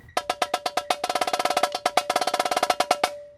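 Snare drum struck in rapid triplet patterns on the rim edge, from a 2018 Vandegrift drumline snare break: crisp, close, evenly spaced hits in quick bursts, played alone.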